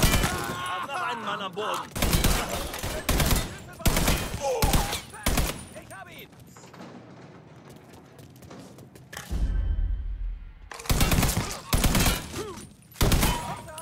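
Gunfire in the video game Mafia 3: loud bursts of rapid shots and heavy blasts in clusters, broken by a quieter stretch, with someone talking between volleys.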